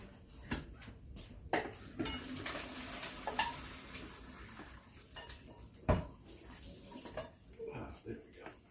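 Cooked sweet potatoes are drained and mashed in a bowl while making homemade dog food: water splashes, then dull clinks and soft scraping come intermittently at close range, with a sharp knock near the middle.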